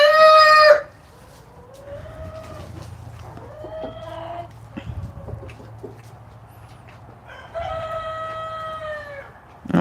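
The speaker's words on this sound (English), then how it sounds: "Oh, I have fighting hens." Several hens cluck and squawk loudly in a scuffle at close range, with bursts of harsh calling at the start and again near the end over a low background hum.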